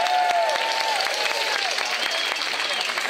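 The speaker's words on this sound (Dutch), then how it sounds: "Geef haar een groot applaus, Judith Leusink." An outdoor summer event crowd claps and cheers in sustained applause that fills the whole stretch, with a faint voice and whistle-like tones over the clapping.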